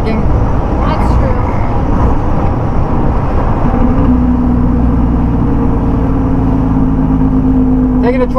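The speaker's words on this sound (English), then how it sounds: "Taking the truck out to see if it still does that loud, funky sound." A pickup truck being driven near a campground, its engine running with a steady rumble and road noise heard from inside the cab, with a low droning tone emerging partway through.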